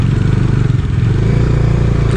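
Bajaj Dominar motorcycle riding on a rough Himalayan mountain road near Sach Pass, a loud, steady engine drone with pulsing low rumble and some clatter, close and continuous without speech.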